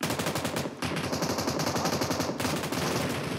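Rapid automatic gunfire from the mobile battle royale PUBG Mobile rattles loud and close in continuous bursts, with two brief breaks in the stream of shots.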